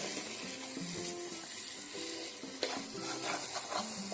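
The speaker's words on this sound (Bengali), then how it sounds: "তো এটাকে আর একটু নাড়িয়ে নেব।" Mashed bottle gourd cooked with mung dal gets stirred in a wok, a soft steady sizzle with muffled scraping strokes, close but fairly quiet and without speech.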